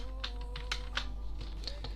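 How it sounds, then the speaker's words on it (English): Quick, light keystrokes on a computer keyboard, a short burst of uneven clicks at close range over a steady low electrical hum, with no voices. "what am I even typing right now?"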